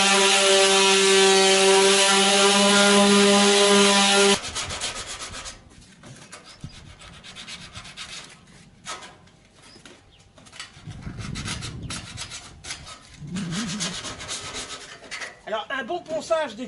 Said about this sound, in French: Alors, un bon ponçage des capots, intérieur-extérieur, évidemment.